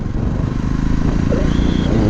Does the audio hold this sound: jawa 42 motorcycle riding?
yes